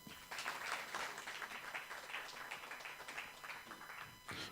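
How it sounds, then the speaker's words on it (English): An audience at an Earth Hour panel event applauds a guest speaker, a quiet, distant patter of many hands clapping at a steady rate for a few seconds. "may we please give a huge and warm round of applause for Mr."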